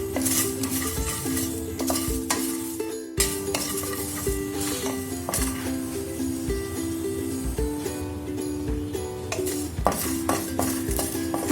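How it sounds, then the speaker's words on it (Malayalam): Whole garam masala spices dry-roasted in a pan without oil, stirred steadily so they rattle and scrape against the metal, with intermittent clinks from the spoon continuing throughout. "ആദ്യം നമുക്ക് ഗരം മസാലയ്ക്ക് ആവശ്യമായിട്ടുള്ള സാധനങ്ങൾ ചെറുതായിട്ടൊന്ന് ചൂടാക്കിയിട്ട് പൊടിച്ചെടുക്കാം"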